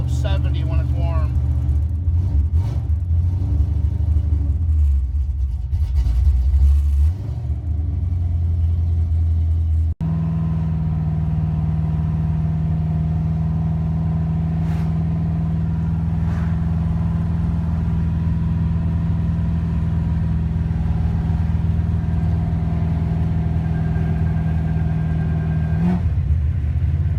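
A 1981 Monte Carlo with a 355 small-block Chevy engine idles while warming up, a loud, steady, close low rumble that holds even for most of the stretch, with rougher, more uneven running at the start.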